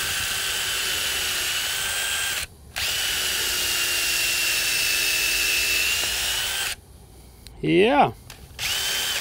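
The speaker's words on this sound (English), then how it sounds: "we're gonna just put in a few screws here to tighten this all up" A power drill whines steadily for several seconds while driving screws into a hardwood pergola beam, with a short pause, then it stops and a brief rising-and-falling whir follows; a voice speaks briefly.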